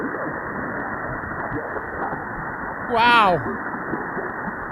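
Amateur radio voice signal relayed through the AO-07 satellite, a noisy band-limited hiss with a faint, fading voice, and a brief swooping tone near the middle; a person says a short word close by.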